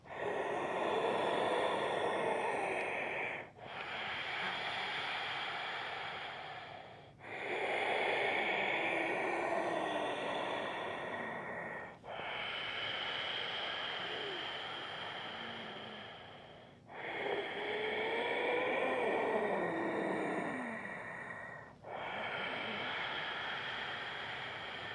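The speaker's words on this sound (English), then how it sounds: "If you'd like to add the ujjayi breath, which you'll sometimes hear during these videos" Steady ujjayi breathing through the nose with a constricted throat, slow alternating inhales and exhales in long hissing waves about four to five seconds each, close and clear, no talking.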